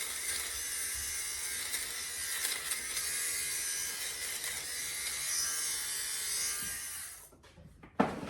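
An electric sweater shaver runs steadily over clothing with a continuous buzzing whir, close and fairly loud, cutting off near the end with a brief click.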